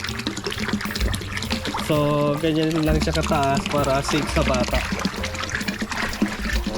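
A strong stream of water gushes and splashes from a Pedrollo water pump outlet, pouring steadily while someone talks over it throughout.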